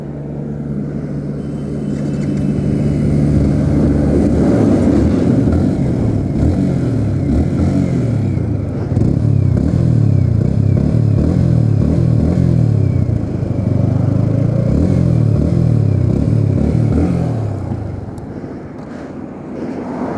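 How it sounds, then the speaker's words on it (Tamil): A Yamaha MT-15 BS6 motorcycle engine starts and runs close by, a loud steady idle with some revving that climbs and settles, then drops away near the end. "நம்ம வந்து இப்போ கிராங்கிங் சவுண்ட் வந்து பார்ப்போம்."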